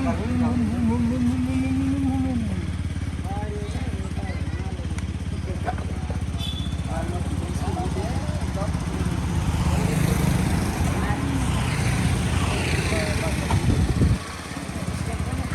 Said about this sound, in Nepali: हाइबुसा जस्तो देखिरहेको छ यहाँनिर।